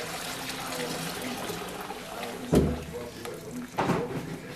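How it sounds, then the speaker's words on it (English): Beer wort poured into boiling water in a sink gives a continuous watery trickle and splash, with a heavier gush midway and another near the end, heard close under faint background voices. "taking the wort and pouring it into the boiling water in the sink"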